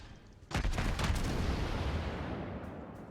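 A naval gun salvo from World of Warships lands close by, a heavy booming burst of several overlapping blasts that rolls into a long, loud rumble fading slowly.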